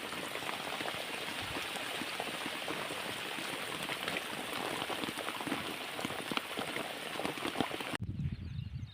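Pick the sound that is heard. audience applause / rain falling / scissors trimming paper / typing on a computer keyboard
rain falling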